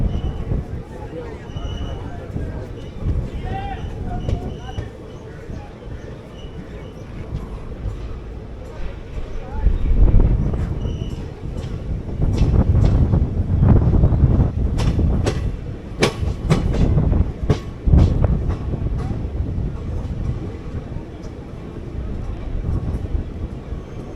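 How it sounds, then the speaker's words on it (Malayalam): An EMU local train bound for Palwal pulls into a local station near Delhi, its rumble swelling midway into loud clattering wheels and rattling coaches before easing off, with faint voices in the background. "പൽവലിലേക്ക് പോകുന്ന EME വരുന്നത്"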